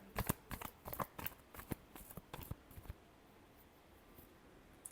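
Tarot cards being shuffled by hand in a quiet room: a burst of quick riffling snaps and slides for about three seconds, then near silence with one last faint flick.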